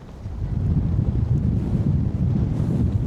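Strong wind roars and buffets the microphone out on the water during a cast-net fishing trip, a loud, steady low rumble that continues throughout without a break and with no speech.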